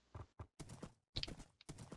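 Hooves of a horse in a blocky survival-game world clip-clop in quiet, uneven bursts of several steps each, faint and close, with short pauses between the groups of steps.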